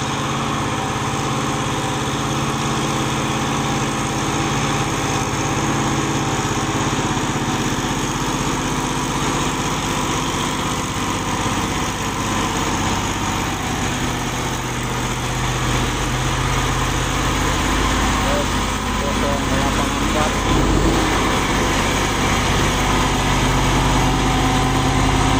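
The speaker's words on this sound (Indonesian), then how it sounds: "Ada satu unit truk tua kita lihat nih mau menanjak." An old truck engine labours up a steep hill, giving a continuous loud, rumbling drone that holds steady throughout with no voices.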